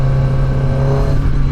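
A QJMOTOR SRK250RD motorcycle engine drones loudly and steadily at high RPM close to the microphone, a constant rev with no one talking.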